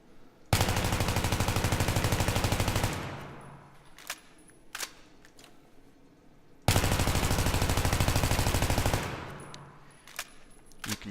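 M16 assault rifle in Battlefield 3 firing a full magazine, two long, rapid, loud automatic bursts of about two and a half seconds each, followed by clinks of casings and reload clicks in between.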